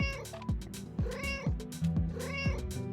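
Repeated meows of the red sand cat in the mobile game State of Survival, several rising cries over a loud, busy game music backdrop, close and bright.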